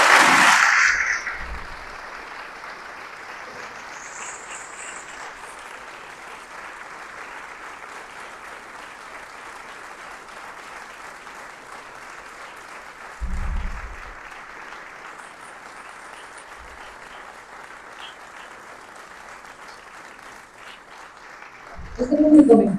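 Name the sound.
audience applause at a book presentation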